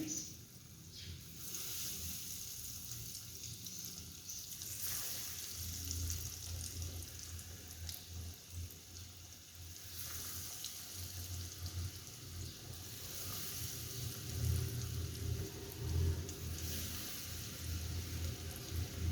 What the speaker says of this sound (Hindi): अब इसमें चीज़ रोल डालते हैं, एक एक करके डालेंगे